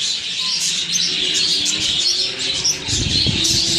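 A pair of spangle budgerigars in a breeding colony chirp and chatter in a dense, continuous twittering from many birds close by, with a soft rustle of movement near the end.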